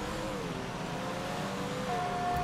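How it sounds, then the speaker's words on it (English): Cars drag racing in GTA 5 Online, with a steady, continuous engine roar that holds loud and even throughout, without any voices. "Drag race off the top."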